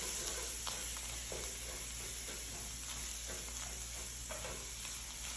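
Tomato paste is stirred in a sizzling pan, giving a soft, steady frying hiss with faint scraping strokes from the stirring. The sound is quiet and close, with no voices.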